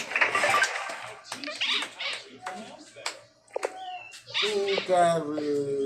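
Several cats meow at home, with a short meow in the middle and a longer, clearer one near the end, while people talk over most of it.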